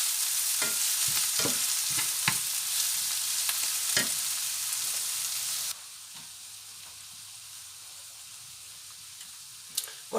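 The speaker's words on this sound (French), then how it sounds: "on a juste fait revenir un peu nos oignons" Chopped onions sauté and lightly brown in a pan for a bitoyo recipe with oyster mushrooms. A bright, continuous sizzle is broken by several sharp stirring scrapes, then it drops to a quieter hiss for the last few seconds.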